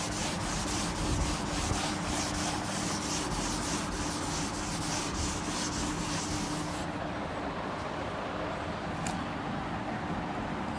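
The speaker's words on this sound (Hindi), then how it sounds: "इसको मैं रब कर देता हूँ" Writing is rubbed off a classroom board during a trigonometry lesson with steady, rhythmic scrubbing strokes, close and continuous, that go slightly duller toward the end.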